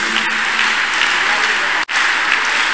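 A large congregation at a healing and deliverance prayer service claps loudly and continuously for Jesus, with voices mixed into the noise and a brief break near the end.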